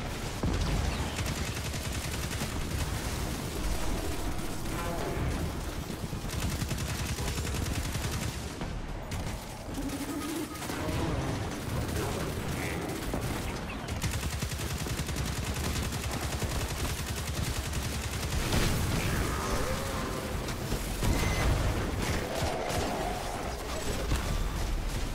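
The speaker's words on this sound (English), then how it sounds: "I like this auto rifle." Auto rifle fire in Destiny 2, rapid bursts of automatic shots rattling over a busy game soundscape, sustained and fairly loud across the whole stretch with brief pauses.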